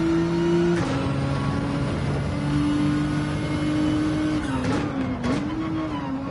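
Race cars leave the pits at Brands Hatch in Gran Turismo 7, steady engine tones shifting pitch as they accelerate under a continuous background drone, moderately loud.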